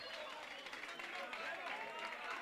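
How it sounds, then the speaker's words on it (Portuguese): At a rap battle, a crowd applauds the rapper with faint, continuous clapping and crowd noise that sounds distant and steady, with voices mixed in. "Vamos aplaudir o Salomão, foi o último round."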